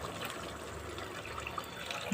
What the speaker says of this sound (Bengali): এবার একটু জল দিয়ে দেব